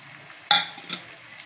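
Spoon stirring turmeric and chilli powder through chopped tomato in a pan for egg bhurji, a sudden scraping clatter followed by soft sizzling and a second lighter stir, close and fairly quiet.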